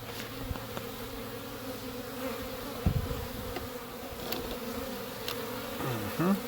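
Honeybees hum in a steady, dense buzz at a hive entrance fitted with a pollen trap, with individual bees zipping close past now and then against the continuous drone.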